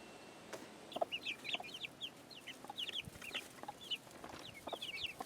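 Several hens cluck and chatter in short, overlapping calls, fairly close, with scattered soft bumps and rustles of a coop around them.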